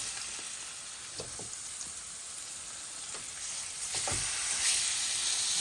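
Beef short ribs sear in a skillet with a little oil, giving a steady, soft sizzle with a few small pops and spatters throughout. No one speaks.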